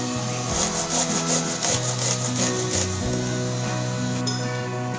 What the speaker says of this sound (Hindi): तमाम मूलियों को मैंने कद्दूकस कर लिया है